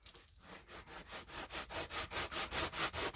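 Sandpaper rubs back and forth over a surface coated with Saltwash paint, a close, quiet rhythmic scratching in steady even strokes that grows slightly faster and firmer.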